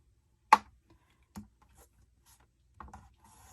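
A scoring tool presses a few crisp scores into paper for a mini album, short quiet scrapes and clicks separated by pauses, close and isolated in a hushed room.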